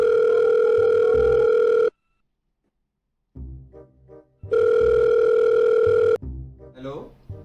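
Telephone tones sound for a call placed to a lawyer, a loud steady dial tone that breaks off, then returns after a pause, with a voice at the end.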